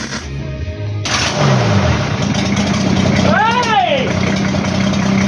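The engine of a mid-wheelbase Nissan GQ Patrol build runs at a steady, loud idle with a low rumble throughout, while a voice shouts and whoops over it.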